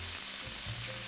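Stuffed pork tenderloin searing in a frying pan gives a steady, loud, close sizzle that continues unbroken throughout, with no speech.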